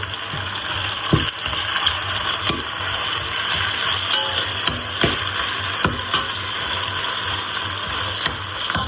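Mint and curry leaves frying in a pan for a prawn biryani, a steady broadband sizzle with occasional scraping stir clicks, close and continuous with no talking.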